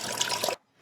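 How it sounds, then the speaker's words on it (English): Water pouring into a cooking pot for homemade refried beans, a loud close splashing trickle for about half a second, then stopping abruptly into near silence. "In go 32 ounces of water"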